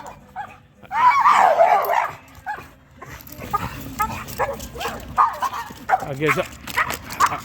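A dog barks and whimpers with short yips during an outdoor walk, the sounds coming in bursts over steady background noise while people talk nearby.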